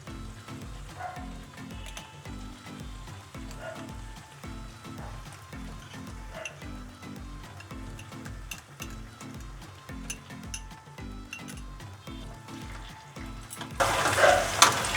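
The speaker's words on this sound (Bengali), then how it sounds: "এবার আমি এর মধ্যে আদা রসুন পেস্টটা দিয়ে দেবো।" Ginger garlic paste sizzles in hot oil in a pan while Kashmiri chicken curry is cooked, a soft steady frying hiss under a regular low rhythmic thumping, with a louder burst of sizzle near the end.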